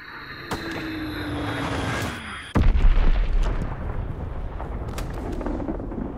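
An Azon bomb falls and explodes in a video game: a steady engine-like drone with a descending whistle, then a sudden loud boom at about 2.5 seconds, followed by a long rumbling roar.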